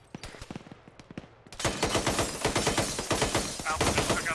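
Military video game combat produces rapid bursts of gunfire, with sparse shots at first and then a dense, loud, sustained fusillade of overlapping rounds.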